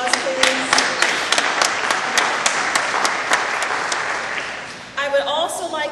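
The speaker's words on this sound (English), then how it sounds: "Can we give them a round of applause, please?" A round of applause fills a Cultural Diversity Foundation fundraiser at City Hall, with many hands clapping in a dense, steady patter, punctuated by sharper claps and a brief surge near the end.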